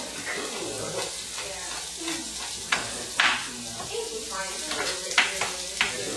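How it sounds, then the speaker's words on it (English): Vegetables sizzle in herb butter in a pan, a close, steady crackle broken by sharper spatters and the scrape of stirring, while a person talks over it. "Here are my veggies frying up."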